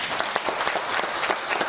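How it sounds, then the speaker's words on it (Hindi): Audience applause at a live comedy show by comedian Surender Sharma at the Cultural Caravan Heritage event in Shimla, a dense, steady wash of many hands clapping for the whole stretch with no voices over it. "अच्छी बात पर अच्छी ताली बजनी चाहिए"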